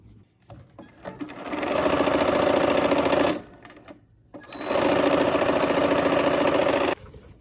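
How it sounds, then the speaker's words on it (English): A sewing machine stitches coffee bean print fabric to medallion fabric for a quilt four-patch, running in two steady bursts of about three and two and a half seconds, close and loud, with a short pause between them. "And we're just going to sew them together."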